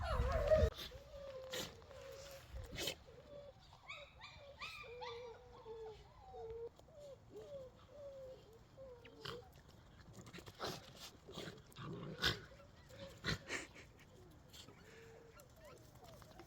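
Dogs whimper and whine in a string of thin, high cries with occasional yips, fairly close and quiet, while a person talks softly between them.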